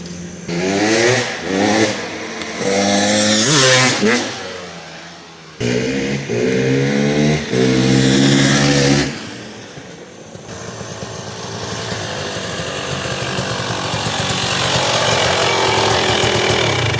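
A 2023 KTM 300SX off-road motorcycle's two-stroke engine revs hard and loud up close, with rising and falling bursts, a brief cut, then a steady high-pitched idle-to-rev drone.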